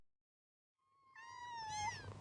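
A cat meows in the video game Before Your Eyes, one rising, drawn-out meow that swells louder near the end over a low background hum.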